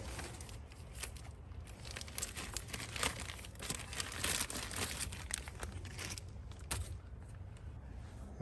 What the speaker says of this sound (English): I'll just get this bag off that I put on earlier